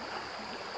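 A calm, mild stream flows past, a soft continuous broadband rush of water heard alone for under a second.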